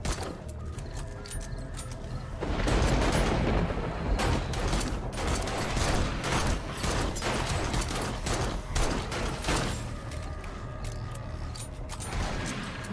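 Dense, sustained gunfire in the survival game 7 Days to Die during a nighttime horde, with rapid rattling shots and mechanical clatter running almost continuously, louder from around the third second onward.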